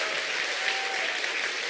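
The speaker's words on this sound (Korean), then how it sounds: "본인들을 위해서 뜨거운 박수 부탁드리겠습니다" Dense, steady applause from a large audience at a business seminar, a continuous loud wash of clapping with no talking.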